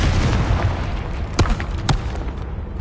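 Blasting spell explosions in the Hogwarts Legacy video game: two sharp booming bursts about half a second apart over a dense, continuous game soundscape, loud and close with no speech.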